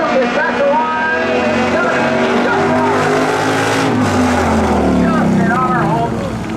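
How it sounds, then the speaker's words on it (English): Drag race cars accelerate hard down the track at New Smyrna Speedway during a spectator drag event. Their engines roar loudly and continuously, the pitch rising and shifting as they pull away. "Justin going to hit the afterburners. And have a drag race here, folks."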